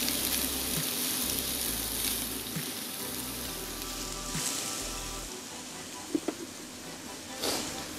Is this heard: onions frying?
yes